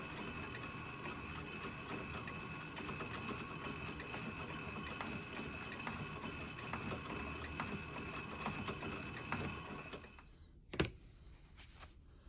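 Metal shaper cutting a replacement part for an obsolete vintage Hobart MIG welder: steady mechanical clatter and whine with a rhythmic stroke for about ten seconds, then it stops, leaving quiet shop noise and one sharp knock.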